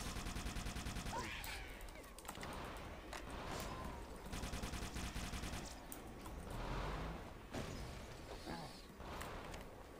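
Enemy weapons in Halo: Combat Evolved fire in rapid bursts, dense crackling volleys rising and falling over about ten seconds, fairly quiet in the mix with brief mechanical creaks between.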